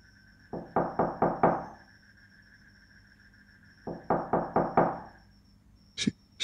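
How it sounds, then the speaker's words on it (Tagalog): Two bursts of knocking on a door as a horror-story sound effect, each a quick run of about five sharp raps with a pause between, loud and close over a faint steady hum, followed by a brief sharp hit at the end. "Sumapit ang gabi at may kumatok na nga sa pinto."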